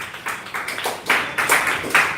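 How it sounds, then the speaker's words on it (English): Audience applause for speech contest participants being called to the stage: bursts of clapping from a small crowd come in quick, repeated waves, fairly close and loud, with no talking over them. "Big round of applause"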